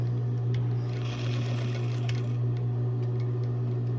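A sewing machine back stitches while mending a rip beside the back pocket of jeans, a steady close mechanical whir with a short pause and quick ticks as it runs on.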